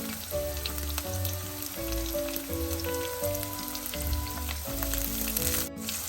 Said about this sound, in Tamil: பச்சை மிளகாயையும் சேர்த்து நல்லா வதங்க விடுவோம்